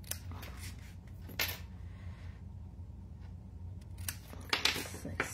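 Scissors snipping paper while a handmade Christmas card is made from scraps, a few quick close crisp cuts in short bursts, quiet and without talk.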